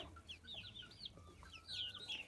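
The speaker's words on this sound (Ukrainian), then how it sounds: "Такий чорний півник, ну йди сюди, не боїться" A black rooster among farmyard fowl, with soft clucks and high chirping calls from the chickens, fairly near and steady over low background noise, no one talking.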